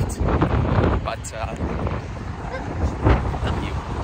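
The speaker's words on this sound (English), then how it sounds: "It's really windy today." Gusty wind blows outdoors on a city street, buffeting the microphone with a broad, continuous rumbling roar that swells and eases, with faint traffic in the background.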